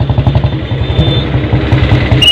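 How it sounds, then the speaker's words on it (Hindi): Motorbike engine chugging in a fast, steady putter as it rolls into a crowded parking area at the Kumbh Mela, loud and close with no talking. "तो फ्रेंड अब हम लगाएंगे अपनी बाइक को पार्किंग में।"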